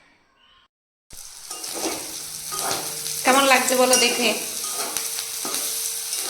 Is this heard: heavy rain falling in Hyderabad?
no